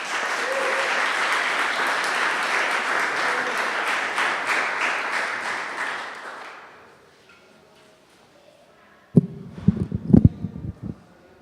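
An audience at a pre-concert talk claps warmly for several seconds, a dense patter that fades out, then after a short silence some nearby knocks and handling noises follow.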